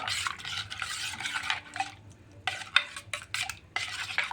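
Chaat masala being stirred into pani puri water with mint, a spoon or ladle clinking and scraping against a metal vessel in bursts of close, bright taps and swirls, with quieter pauses between.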